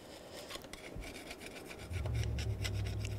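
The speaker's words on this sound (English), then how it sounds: "Just scrape any excess gasket material." Old gasket material is scraped off a water pump sealing surface on a 2000-06 Chevy Tahoe, with quick rasping strokes repeated at close range, fairly quiet, over a low hum.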